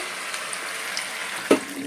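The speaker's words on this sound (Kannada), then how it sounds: "ಇವಾಗ ಮುಣಗೋ ಅಷ್ಟು ನೀರು ಹಾಕಿದ್ದೀನಿ" Water is poured into a sweet pumpkin gojju mixture in a cooking pot, a soft steady hissing stream with a brief louder splash near the end.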